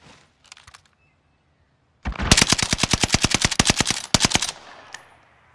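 Automatic EM2 rifle fire in Call of Duty: Warzone: a short faint burst, a pause, then a loud rapid sustained volley of evenly spaced shots lasting over two seconds, ending with a brief extra burst.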